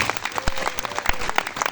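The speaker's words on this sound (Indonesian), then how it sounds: "Tepuk tangan untuk kita semua." Audience applause at an outdoor religious talk in Kepulauan Meranti, Riau, Indonesia: dense, steady clapping from a crowd, moderately loud and close, with a few sharper individual claps standing out.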